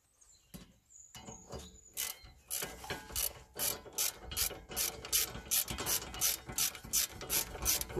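Socket wrench ratcheting a bolt during a rear brake disc and pad change on a Citroën C4 or Peugeot 307/308, with a steady series of quick, close pawl clicks that grow louder and more regular, no talk.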